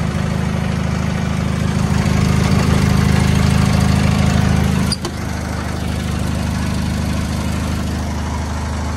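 A small engine on a New Zealand-made Power Pony tractor mover runs steadily at close range, a loud droning hum that dips briefly midway as it is put in gear, then carries on.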